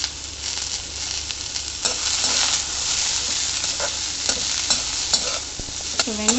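Onions sauté in a pan with ginger, garlic, green chillies and a little salt for mushroom masala, making a loud, constant sizzle with repeated stirring scrapes and clinks of the spoon, heard up close and without speech.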